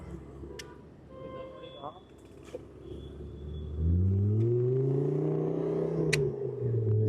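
Lamborghini supercar on Himachal Pradesh registration revving up mid-clip with a loud, rising engine roar that holds and climbs, after quieter street ambience with people talking.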